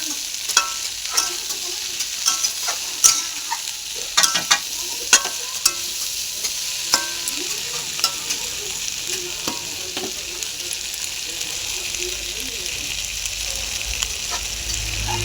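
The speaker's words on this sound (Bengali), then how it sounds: "পুরো এটা সিমের সাথে আর ফুলকপির সাথে মশলাটাকে এরকম মিক্স করে নিতে হবে" Spice mix is stirred into flat beans and cauliflower in a frying pan, with a continuous soft sizzle broken by repeated scraping, clacking strokes of a utensil, close and alone without talk.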